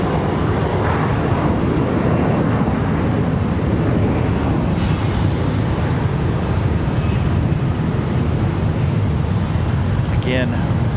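An American Airlines jet landing on runway 36 left at Charlotte Douglas International Airport produces a loud, continuous roar of engines and rushing wind that holds steady throughout, with a faint beep near the end.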